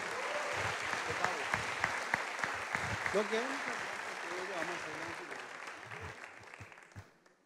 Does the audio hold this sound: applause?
yes